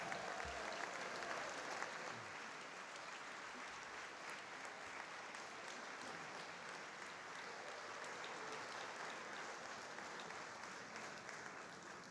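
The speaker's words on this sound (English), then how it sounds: "keep it clapping, keep it clapping" Sustained audience applause at a 2019 college convocation ceremony, a dense steady wash of many hands clapping that holds at an even level for the whole stretch without a break.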